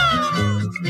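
Cat meowing, a single clear, close drawn-out meow with a bending, sliding pitch, lasting about a second.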